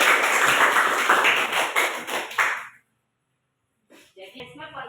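A classroom of students claps for a classmate during a biology lesson on breathing, a brief burst of close, loud applause that stops abruptly, followed by silence and then a teacher speaking.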